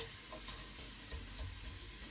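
Black and green cardamom, a cinnamon stick, cumin seeds, cloves and black peppercorns frying in a pan for keema matar pulao give a soft, steady sizzle with faint stirring, quiet and close with no talking.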